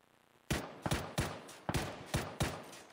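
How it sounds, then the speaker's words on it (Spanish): Seven sharp gunshots crack out in a quick, irregular sequence after a quiet start, each a loud, close burst with a short decaying tail. "¿A dónde fue ese disparo?"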